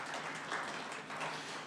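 Church congregation applauding together during a sermon, a dense, steady wash of many hands clapping at moderate distance, sustained evenly for the whole moment with no voices rising above it.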